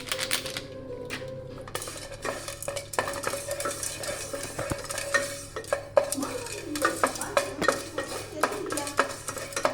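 Popcorn kernels cooking in a hot pan with butter over a low flame while being stirred, busy rattling and scraping of a utensil against the pan over a low sizzle, with irregular clicks throughout and no talk.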